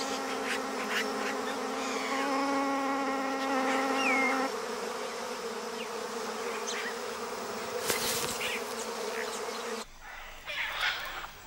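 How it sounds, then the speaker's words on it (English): Wasps buzzing steadily around their colony in an Amazon forest, where caciques nest alongside them; a continuous close drone with a faint whistled bird call mixed in. "They build their nests alongside colonies of wasps."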